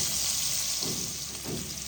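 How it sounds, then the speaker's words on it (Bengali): Whole cumin seeds and chopped onion fry in hot oil, a loud, continuous close sizzle with two soft bursts as the pieces are stirred, and no voices. "দেখো তেলের মধ্যে আমি গোটা জিরা ফোড়ন দিয়ে পেঁয়াজগুলোকে ছেড়ে দিলাম।"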